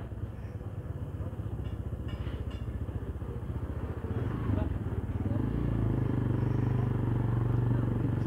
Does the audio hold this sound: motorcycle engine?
yes